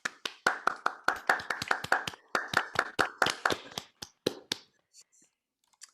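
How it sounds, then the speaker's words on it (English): A small audience claps, the sharp individual hand claps close and distinct, thinning out and fading to silence within a few seconds. "So please join me and give them a heartfelt round of applause."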